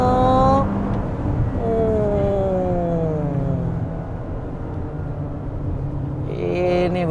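A 2020 Toyota RAV4 engine drones while the SUV is driven, its tone sliding up and down as revs change, heard close and steady from inside the car.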